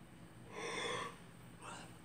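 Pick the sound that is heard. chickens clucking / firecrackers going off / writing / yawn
yawn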